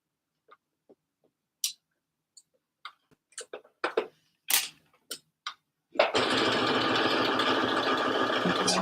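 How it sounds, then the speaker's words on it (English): Sparse clicks and taps from handling a sewing machine, then the machine starts and runs in a steady, loud, continuous whir as it stitches over a thick seam on slipper boots. "I'm going over that thick seam now, so I'm just paying a bit more attention to making sure that the machine is still going through"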